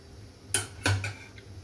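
Tomato soup stirred in a pot, two quick clinks of a spoon against the metal close by, followed by a faint third tap.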